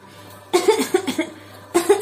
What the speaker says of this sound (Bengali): আমার না খুব কাশি হয়েছে